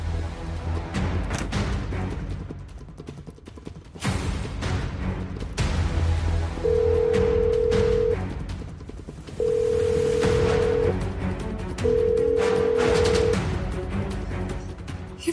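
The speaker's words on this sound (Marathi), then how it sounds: "ही फोन का उचलत नाही?" A phone call rings out unanswered: three long, steady electronic ringback tones repeat with pauses between them over busy, dramatic background music.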